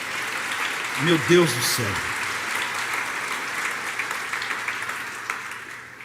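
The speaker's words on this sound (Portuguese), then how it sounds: "Dá uma salva de palmas, irmãos" A church congregation claps under a preacher's voice, continuous applause running throughout while a man briefly exclaims over it.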